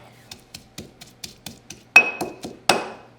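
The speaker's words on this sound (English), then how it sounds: "I want to switch with some twist and grind motion to really break up that garlic" Garlic being worked in a mortar and pestle: a steady series of about eight sharp, evenly spaced hard taps, then a few louder, ringing strikes with a gritty scrape behind them, close and with no voices.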